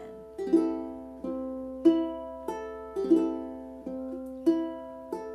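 Ukulele notes plucked in a steady repeating thumb-and-finger pattern, bright and close, about two picked groups per second with no voice.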